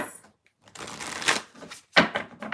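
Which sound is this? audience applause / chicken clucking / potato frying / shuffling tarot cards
shuffling tarot cards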